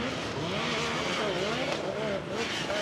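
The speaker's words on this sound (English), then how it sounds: "we do have another car off the line" Ultra 4 off-road race car pulling away from the start line during qualifying, a steady, loud engine roar with rising revs and faint tire noise, a commentator talking over it throughout.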